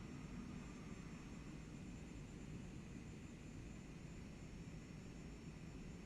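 Embraer jet airliner in Microsoft Flight Simulator 2024 video game, a steady broadband engine roar holding at even loudness throughout with no talk over it.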